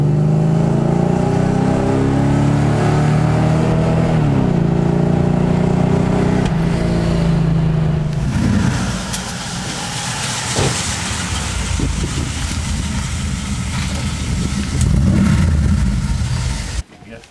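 A Mercedes 450SEL 6.9 with a custom exhaust accelerates, its engine note rising loud and close for about eight seconds, then settling into a rougher, broader rumble with wind and road noise.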